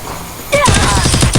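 Rapid gunfire in the mobile shooter Free Fire, a loud close burst of quick repeated shots fired in fast succession after a brief lull.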